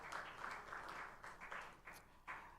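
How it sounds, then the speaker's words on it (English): An audience at a book festival applauds steadily for nearly three seconds, a dense continuous patter of hands in a hall with small surges and dips and no voices over it. "Please, a round of applause."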